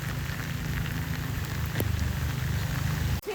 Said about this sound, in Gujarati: જોરદાર વરસાદ ચાલુ થઈ ગયો છે અહીંયા તો જો.